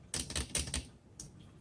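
A 1948 Royal Quiet Deluxe portable typewriter clacks through a quick run of crisp, close keystrokes, followed by a short pause and one more sharp strike, with no talking.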